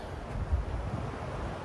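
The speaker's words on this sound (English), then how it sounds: "it's a little windy" Steady wind buffets an open campsite in northern Arizona near an off-road teardrop camper, a continuous low rumble on the microphone with no voices.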